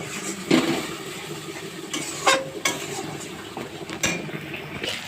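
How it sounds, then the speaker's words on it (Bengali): Spice paste with turmeric and a splash of water sizzles in a pan while being sautéed for a fish-head and cabbage curry, a steady frying hiss with occasional spoon scrapes and clinks against the pan. "এবার খানিকক্ষণ কষিয়ে নেব।"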